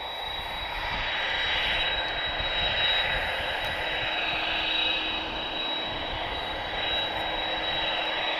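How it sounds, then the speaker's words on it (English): A TAP Air Portugal Airbus A320 arriving at Lisbon Airport from Porto gives a steady, broad jet roar that swells slightly and holds at a constant level throughout, with no voices. "it's TP1929 arriving from Porto"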